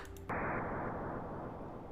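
A video game explosion bursts in abruptly after a brief quiet moment and then settles into a sustained, crackling low rumble that slowly fades, heard alone.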